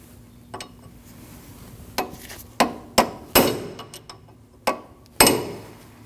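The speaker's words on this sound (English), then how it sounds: "you want to peen your nut into that cutout" Metal hammer strikes peening an axle nut into its cutout during front lower ball joint work on a 2003-2008 Subaru Forester: about eight sharp, ringing blows, irregularly spaced and close, with no talking.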